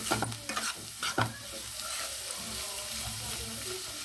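Onions fry in oil for a simple egg curry while a spoon stirs them, a few sharp scraping strokes at first giving way to a steady close sizzle.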